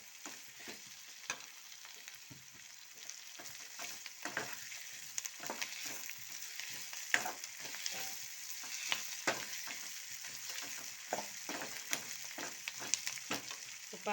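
Cumin seeds and curry leaves fry in oil in a pan for onion chutney, with a soft continuous sizzle, small crackles and pops, and occasional stirring scrapes.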